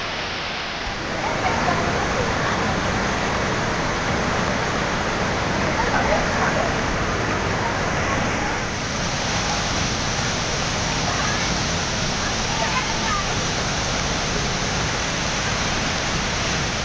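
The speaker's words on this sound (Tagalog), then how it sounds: "So, dito na kami mismo sa may buwangan ng falls." Roaring water thunders steadily at the base of Kapati Waterfalls, a dense, unbroken wash of spray and falling water that fills the scene from start to finish at close range.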